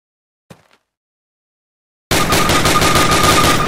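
Automatic weapon fire in Call of Duty: United Offensive, a sustained rapid burst of loud, close shots starting abruptly after near silence broken by one faint short click.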